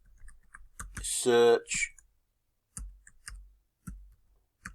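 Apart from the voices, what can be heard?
typing on a computer keyboard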